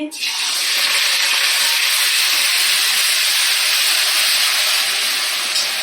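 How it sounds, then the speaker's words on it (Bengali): Onion dropped into hot oil in a pan over a low gas flame, giving a loud, steady broadband sizzle that starts abruptly and holds continuously without pause, up close. "দেখো, তেলটা গরম হয়ে গেছে। এবার পেঁয়াজটা দিয়ে দিচ্ছি।"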